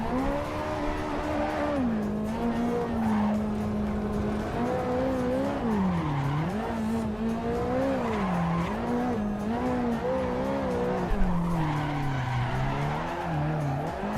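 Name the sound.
car tyres skidding in video game Assetto Corsa Evo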